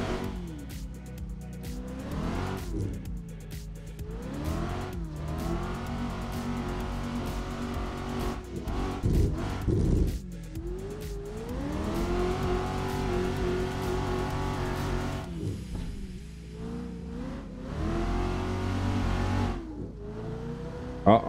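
A car engine in a driving video game drifts on a snowy track, revving up and down in repeated sweeping rises with steady loud engine drone and occasional tire noise.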